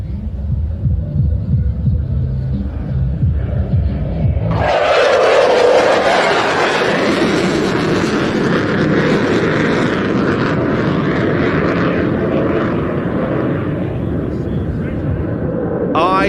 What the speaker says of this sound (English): Ladies and gentlemen, protect your ears. The Royal Air Force Typhoon.